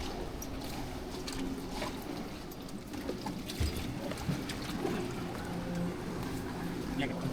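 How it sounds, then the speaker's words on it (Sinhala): People step aboard a small boat, with soft water sloshing, light knocks and creaks underneath, all quiet and mixed with nearby voices talking. "දැන් බෝට්ටුවට ගොඩ වෙනවා."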